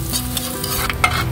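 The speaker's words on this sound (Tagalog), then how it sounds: "Mainit na guys yung ating mantika, kaya ilalagay na natin ang ating bawang." Garlic dropped into hot cooking oil in a pan for a Filipino sautéed bottle gourd dish with fish balls, giving a steady, close, loud sizzling hiss with faint stirring scrapes and no talk.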